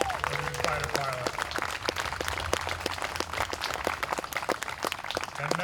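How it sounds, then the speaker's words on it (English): Outdoor crowd applause at a Memorial Day parade in New Bedford honoring a combat veteran, scattered claps rising and falling steadily over street noise, with talk mixed in. "I would just ask everybody to join me in another round of applause for Gary Correa"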